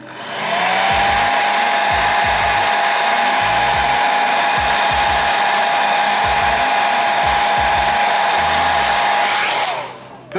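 Heat gun blowing steadily on 2K clear coat over an Alpha Model Porsche 911 GT3 RS scale body, a loud continuous whirring hiss with a whine that holds for about nine seconds, then winds down at the end.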